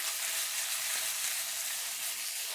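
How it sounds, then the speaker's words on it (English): Italian sausage and vegetables sautéing in a pan, a steady, soft hiss of frying with faint stirring, no talk. "I'm just sautéing the stuff now, flipping it."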